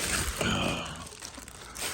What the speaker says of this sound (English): Another plastic bag.